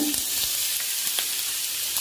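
Onions sizzling in hot oil, a constant bright crackling hiss with small pops, close and steady.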